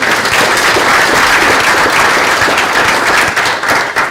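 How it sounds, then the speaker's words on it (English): Sustained, dense applause from an audience at an executive ethics symposium, greeting a guest speaker from Mexico; steady and loud throughout, tapering slightly near the end. "How about a warm round of applause for our guest from Mexico?"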